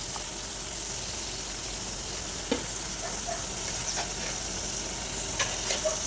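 Tomatoes and onions cook in a pan for chutney, a soft steady sizzle with a few faint clinks and stirring taps over quiet background noise.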